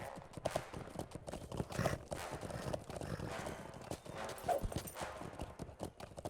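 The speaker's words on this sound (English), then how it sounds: "this horse is gonna get itself killed before I can catch it" Horse hooves clip-clop at a brisk, irregular run in Lord of the Rings Online, faint and continuous, with a soft whinny and background game ambience.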